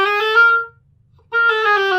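Oboe playing a chromatic scale figure in a seven-note sextuplet grouping; two quick bursts of clear, reedy rapid notes separated by a brief silence, close and solo.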